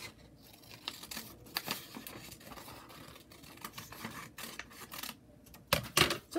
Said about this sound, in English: we're going to take our scissors. And I want you to cut out all of your little animals.